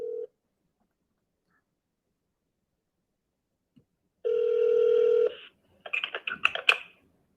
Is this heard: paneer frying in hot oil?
no